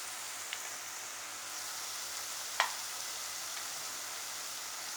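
Onions with ginger garlic paste sauté for prawn chukka, giving a steady, even sizzle with a low hum underneath and a couple of faint utensil taps. No one talks.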